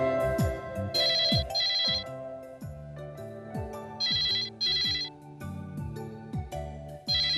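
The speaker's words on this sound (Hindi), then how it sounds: "फोन उठाता ही नहीं है।" A telephone rings again and again with no one picking up, a bright electronic ringtone in repeated bursts with short gaps, loud and close, over low tonal background sound.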